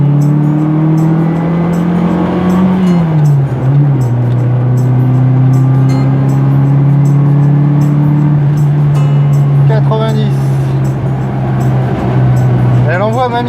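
A Morris 1300 GT sedan running a Cooper S engine revs loud and close, a sustained droning note that climbs, dips and holds steady at high rpm, with faint talk over it.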